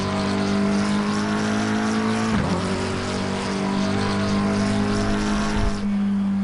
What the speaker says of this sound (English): So the McLaren GT3 728S. McLaren 720S